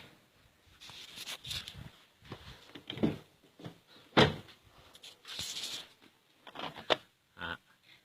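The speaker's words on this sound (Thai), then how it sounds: "แล้วดูนะครับ จะเปิดประตูเฉยนะ" A car door is opened by hand, giving a series of sharp latch clicks, clunks and light rattles spread over several seconds. The sounds are close and moderately loud, with no talking.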